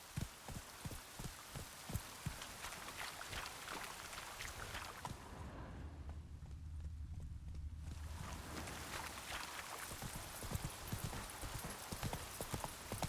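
Roach the horse's hooves in the Witcher 3 video game, clip-clopping in a steady trotting rhythm that pauses briefly midway and then resumes, with no one talking.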